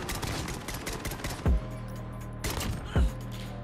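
SKS marksman rifle fire in a shooter game: two sharp, loud single shots about a second and a half apart, each with a booming low tail, over a busy bed of distant game gunfire.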